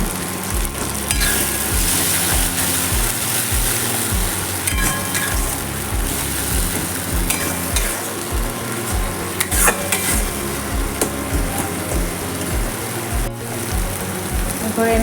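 Ground mustard-poppy seed paste going into a hot pan for a fish and okra dish, a dense steady sizzle with repeated scraping stirs and occasional knocks, close up, with no talking.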